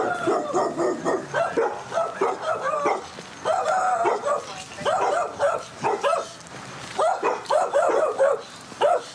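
A dog barks repeatedly in bursts at a police call on a night scene, loud and close, with short gaps and a whimpering edge between volleys.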